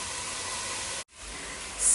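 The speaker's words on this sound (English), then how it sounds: "fry for about 3 to 5 minutes." Leeks and other vegetables for a vegan potato and celery root soup fry in a pot with a steady, even sizzling hiss that drops out briefly, then resumes and swells slightly.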